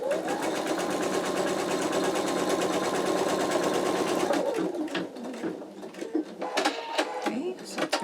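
Embroidery machine stitching out an in-the-hoop wallet, a steady rapid mechanical whir for about four seconds, then stopping and giving way to scattered clicks and brief bursts.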